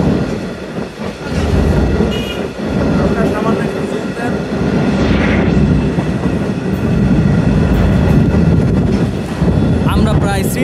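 A freight train loaded with stones rumbles along the rails at about 35 km/h near Srinagar station, heard from on board with a steady loud roar, rhythmic wheel clatter and wind buffeting throughout.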